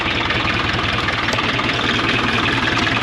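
A tractor engine drives a hay rake after the clutch releases, a loud, steady, low rumble with a constant throbbing vibration from start to end.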